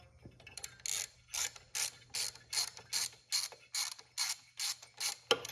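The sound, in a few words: ratchet removing spark plug from Suzuki DS100 motorcycle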